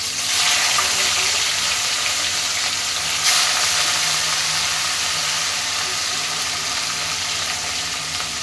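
Fish sizzling in hot oil in a heated kadai for a Bengali-style rui fish curry, a steady broadband frying hiss throughout with a brief louder crackle partway, no talking.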